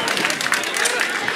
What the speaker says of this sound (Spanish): Que se oiga el aplauso público presente